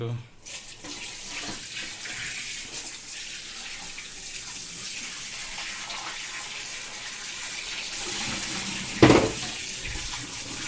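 Tap water runs steadily in a kitchen sink while fish head, tail and belly pieces and prawns are washed, a soft continuous hiss with a brief splash or clunk near the end.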